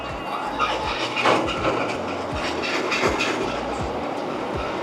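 At a tequila distillery, a mill crushes cooked agave with a loud mechanical rumble and regular rhythmic thumps and clanks, close and continuous.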